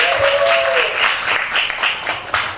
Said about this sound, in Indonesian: Tepuk tangan yang meriah dulu teman-teman.